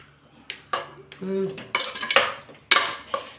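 A pressure cooker lid is closed on a pot of masala chicken gravy, with several sharp metallic clanks and scrapes in quick succession. A short hum and stirring noises come between the clanks, all heard up close in a home kitchen.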